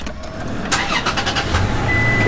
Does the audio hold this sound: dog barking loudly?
no